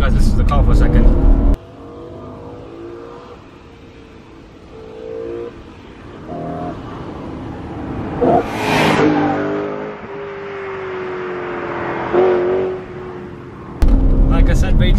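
A BMW M3 E92 driving on a twisty road, its engine pulling and revving through changing pitch as it accelerates, loud and close, with a brief sharp rise midway; louder bursts at the start and end.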